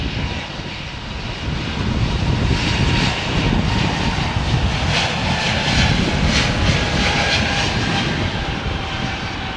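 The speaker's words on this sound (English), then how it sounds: "Oh, it's Cessna C152," A Cessna C152 light propeller plane at Heathrow makes a loud, continuous engine drone with a steady buzzing hum and some wind noise. There is no talking.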